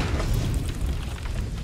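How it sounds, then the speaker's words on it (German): Low rumbling boom from an explosion in the sci-fi video game Prey, a steady deep roar filling the short stretch without a distinct onset, moderately loud and with no talk over it. "Explosions."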